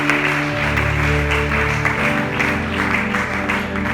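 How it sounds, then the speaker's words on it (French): A church congregation applauding, steady clapping from many people blended with sustained organ or keyboard chords, a continuous even wash with no single voice standing out. "Acclamons pour la gloire du Seigneur."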